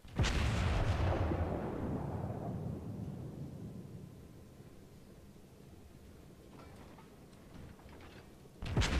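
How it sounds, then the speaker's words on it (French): Warship main guns firing in World of Warships, a heavy booming salvo that rolls away slowly, followed by a second sharp blast at the end. "mes canons tirent pas en même temps"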